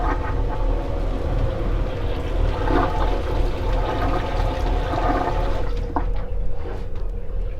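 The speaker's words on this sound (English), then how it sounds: "so running water through the toilet." Toilet flushing aboard a Leopard 45 sailing catamaran, a steady loud rush of running water lasting throughout, close by, with faint mechanical knocks near the end.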